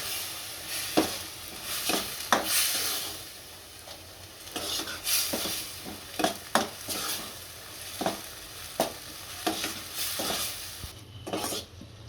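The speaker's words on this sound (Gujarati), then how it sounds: "સ્વાદ અનુસાર મીઠું નાખીશું પાસ્તા મસાલો નાખીશું અને ભેળવી નાખીશું આપણે" Salt and pasta masala are stirred into corn pasta in a pan, with a metal utensil clinking and scraping against it in irregular, fairly close knocks over a faint sizzle.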